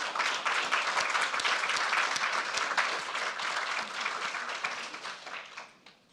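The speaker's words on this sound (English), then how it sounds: "Let's give them another round of applause." A ceremony audience applauds award recipients, a full, even round of clapping that holds steady and then fades out near the end, with no talk over it.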